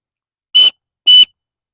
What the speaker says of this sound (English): survival whistle